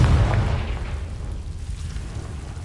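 A booming fire-blast spell explosion from the Hogwarts Legacy video game on PS5 Pro, a loud low burst at the start that rumbles and slowly fades.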